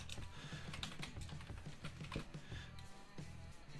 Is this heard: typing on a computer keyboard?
yes